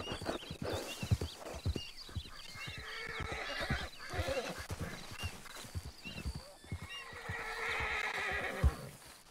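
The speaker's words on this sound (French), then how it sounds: "Oh là, le cheval, oh là." A horse neighs and whinnies repeatedly at close range, with clip-clopping hooves and shuffling movement between the calls.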